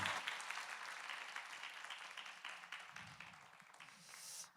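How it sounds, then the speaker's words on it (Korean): A church congregation at a Sunday afternoon worship service claps together, a moderate, diffuse applause that gradually fades, then swells briefly at the end. "다시 한번 큰 박수 부탁드리겠습니다."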